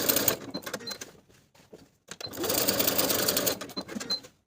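A sewing machine basting a patch pocket onto the front of pull-on pants, running in quick bursts of needle stitching with short pauses between, fairly close and clear, with no speech over it.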